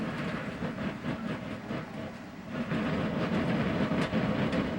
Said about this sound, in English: it's just dragging parts and pieces